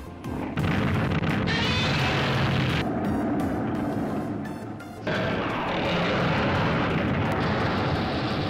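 Aircraft noise from a 1955 black-and-white Godzilla film, a loud continuous engine roar mixed with booming crashes and explosive rumble, dipping briefly before surging again, with no talking.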